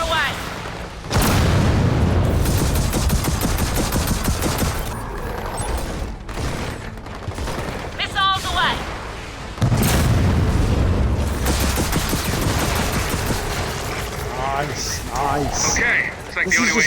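Rockets launch and explode from giant mechs in the Gears of War 4 video game, heavy booming blasts and rumbling debris running loud and continuous, with a brief gap midway, under a speaking voice.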